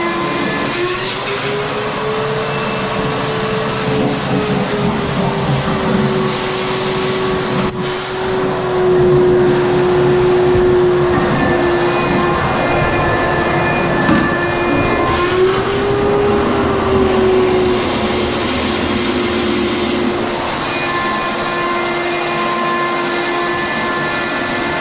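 A wet vacuum sucks leftover water out of a toilet bowl, a loud, steady motor drone with a whining tone that wavers slightly as the water is drawn up.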